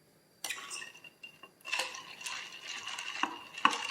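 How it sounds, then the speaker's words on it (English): Plastic straw stirring an instant boba drink in a cup, with sparse clinks, taps and light liquid swishes, close and quiet, coming in irregular bursts after a brief silence. "Just stir it as instructed."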